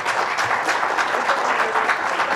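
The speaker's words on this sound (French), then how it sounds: "Applaudissez-la." A conference audience at a disability and society symposium claps steadily together, a dense, even wash of applause that stays loud for the whole stretch with no voices on top.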